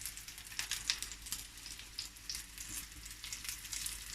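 Greek-style lemon lamb meatballs fry in a crowded pan, giving a steady close sizzle with bursts of crackle and spitting oil throughout, and no one speaking.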